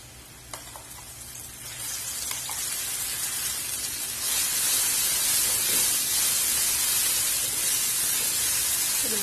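Ground masala paste dropped into hot oil with golden fried onions for a yam fry sizzles loudly and steadily, a close, dense hiss that swells and stays strong without any talk.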